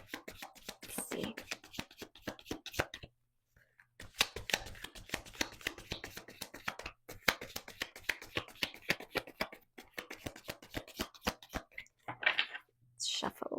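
Rapid, close riffling and slapping of tarot cards being shuffled in repeated bursts, separated by brief pauses, with a couple of soft breathy sounds near the end.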